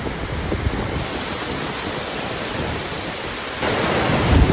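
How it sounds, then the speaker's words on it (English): A constant roar of rushing water from a nearby waterfall in Iceland, steady and loud, swelling a little stronger in the final second. "This is the second waterfall in this area"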